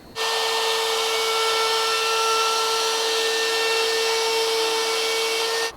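A router climb-cutting around an MDF tabletop to free it from the excess, a loud, steady high whine with sustained tonal ringing, starting and stopping sharply, close by and with no talking.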